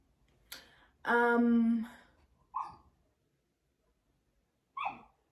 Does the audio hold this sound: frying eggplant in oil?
no